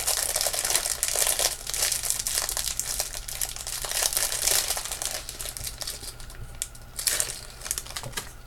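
Crinkling plastic packaging as a Paparazzi necklace is unwrapped, steady close rustling and crackling with a few sharper crunches throughout.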